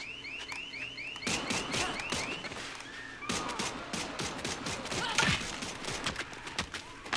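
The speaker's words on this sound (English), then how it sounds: "I need to shut this alarm off." A car alarm wails in the Dead Island 2 video game, its repeating chirping tone sounding over a dense burst of rapid gunfire and clattering action that then dominates the scene.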